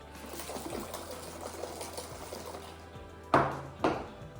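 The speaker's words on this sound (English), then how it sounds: "Let me give it a shake." A homemade Valentine's sensory bottle holding baby oil is shaken, giving a continuous wet sloshing and trickling, then two sharper, louder liquid splashes near the end.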